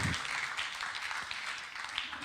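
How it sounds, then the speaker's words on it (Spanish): A church congregation claps together in praise, a steady, distant wash of applause with no break, fairly faint and diffuse. "¿Cuántos le dan un aplauso al Señor Jesucristo?"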